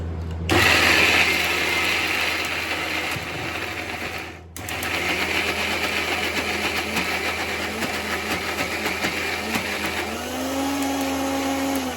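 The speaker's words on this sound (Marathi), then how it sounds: "तर आता याला घेते आणि मिक्सरमध्ये याला बारीक करून घेते" A mixer grinder whirs loudly and steadily grinding soaked wheat with a little water for kurdai, cuts out for a moment, then starts again and keeps grinding.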